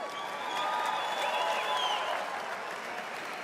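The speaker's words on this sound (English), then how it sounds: "a round of applause for these 2 fighters" A crowd at a corporate boxing event applauds two female featherweight fighters after their bout, a sustained wash of clapping that swells and holds, with a faint ringing tone and a distant voice or whistle underneath.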